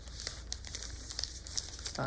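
Paper crinkles and rustles continuously as it is rolled tightly by hand into a stick for a children's craft flag, with small sharp crackles and soft tearing-like scrapes, close up.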